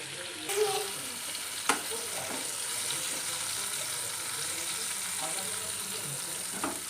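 Soft, continuous sizzle of flat beans frying in a pan, quiet and steady, with a sharp clink of a utensil early on and occasional faint stirring taps.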